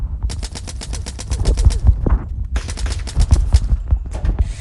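Rapid automatic gunfire in the MadOut2 video game: loud, near bursts of fast repeated shots with a short break in the middle, then a fresh burst.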